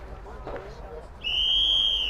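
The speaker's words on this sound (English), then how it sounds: "And that is the whistle" A referee's whistle ends a British Open 2018 qualifying match, sounding as one loud, sustained high blast of about a second after a murmur of crowd noise, with no talking over it.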